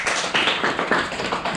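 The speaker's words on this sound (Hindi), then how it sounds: "ताली बजाओ इसके लिए।" A group of schoolchildren clapping for a classmate's story, a quick, close run of slightly uneven hand claps that stays steady throughout.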